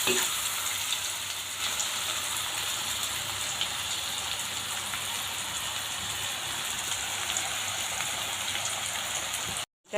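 Onion, ginger and garlic fry in a pan with salt and turmeric, giving a steady, loud, close sizzle like rain that runs unbroken for about ten seconds before cutting off abruptly at the end.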